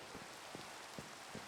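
Light rain falling in Minecraft, a soft steady hiss with occasional faint drop ticks, quiet and continuous without any voices.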